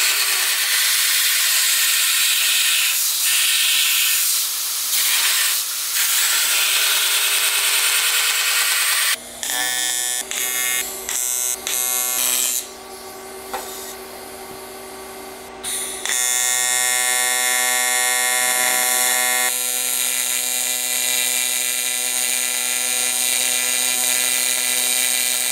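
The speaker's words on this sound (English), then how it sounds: "Alright, got both of these plates welded in." Metal plates being welded in during fabrication on a K-swapped Nissan Cefiro car build, a steady close buzzing hiss with a sharp break midway, then resuming as a continuous droning sizzle.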